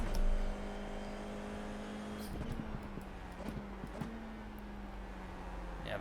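An F4 open-wheel race car in an iRacing sim, its engine holding a steady steady tone on throttle with faint gear-shift blips and mechanical clatter, fairly quiet in the mix.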